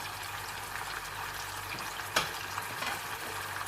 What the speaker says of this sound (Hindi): गोश्त थोड़ा सा इसके अंदर फ्राई हो गया